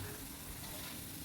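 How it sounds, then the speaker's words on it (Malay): Potatoes frying in hot oil until crisp, a steady, dense sizzle that runs unbroken and fairly close throughout, with no voices over it. "Goreng kentang sehingga garing."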